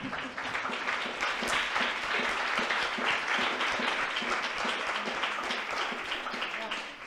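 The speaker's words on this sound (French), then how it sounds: "Ça s'applaudit." Conference audience at Sciences Po applauding steadily, a dense wash of many hands clapping at even loudness throughout, with no clear voices on top.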